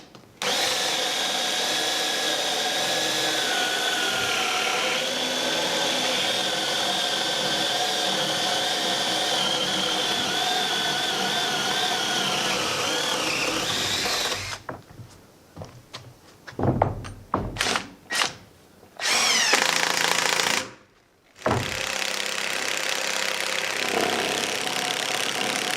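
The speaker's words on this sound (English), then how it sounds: "Now I'll just drill the counter bores and then drill the holes" A cordless drill whirs steadily for a long stretch boring holes in logs for a log cabin, then stops and starts in short bursts with a few dull thunks between runs.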